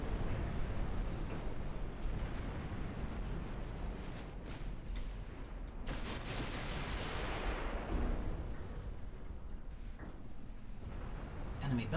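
Light cruisers' guns fire repeatedly in the naval battle game Ultimate Admiral Dreadnoughts, a dense, continuous barrage of booming shots and explosions with no clear pauses.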